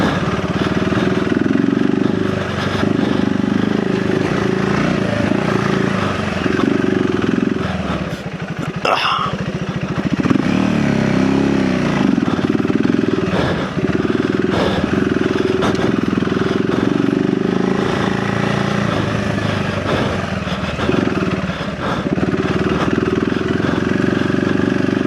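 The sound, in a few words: KTM 390 Enduro R motorcycle engine lugging uphill in second gear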